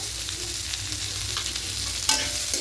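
Cashews, raisins and sugar being mixed into vegetarian fried rice in a pan: a steady close sizzle with faint scraping stirs throughout and a sharper clink near the end.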